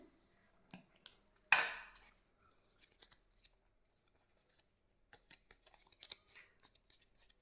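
A deck of tarot cards being shuffled and handled, soft quiet riffles and flicks in scattered bursts with one sharper snap early on, close and otherwise near silent.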